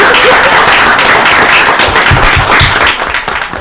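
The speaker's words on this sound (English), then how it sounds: "Now we can applaud." Loud, close audience applause fills a town board of selectmen meeting room, a dense steady burst of many hands clapping that thins slightly toward the end.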